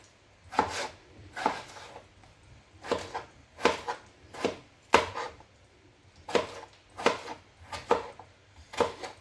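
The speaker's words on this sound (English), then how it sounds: "Take your time, you don't need to speed up your chopping." Potatoes are chopped with a knife on a cutting board, about a dozen crisp, evenly paced knocks, close up with no one talking.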